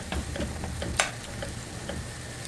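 A vegetable curry cooks on a stove over medium heat, sizzling steadily in the pan while a utensil scrapes and clicks against it several times, with one sharper knock near the middle.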